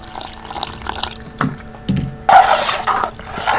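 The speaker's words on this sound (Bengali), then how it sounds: "আর একটু জল দিতে লাগবে সুজিটা। একটু জল দিয়ে দেবো" Water poured into soaked semolina for a breakfast batter: a few soft knocks and clinks, then a brief, close splashing pour near the end.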